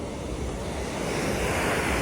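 Shop vacuum pulling air and water through a clogged dryer vent duct, a steady, loud, broadband rushing roar that holds constant throughout without breaks.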